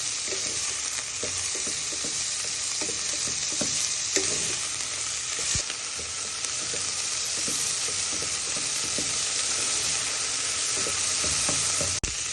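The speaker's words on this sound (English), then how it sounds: "your wooden spoon, you just want to stir them till they get some colour on them" Steady, close frying sizzle fills the whole stretch as food is stirred in a pan with a wooden spoon, with soft scraping strokes over the hiss and no talking.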